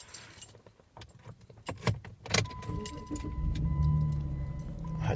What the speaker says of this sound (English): I had to crank the car, you know what I mean?